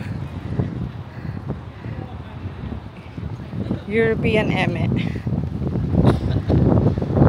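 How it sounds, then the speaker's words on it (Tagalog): Strong seaside wind at Momochi Seaside, Fukuoka, buffeting the microphone with a constant rumbling roar, while a person talks over it. "Lakas ng hangin."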